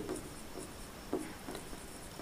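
Quiet scratching strokes of a pen writing out a math solution about a rectangular field, in short separate strokes with pauses, close and soft, with no talking.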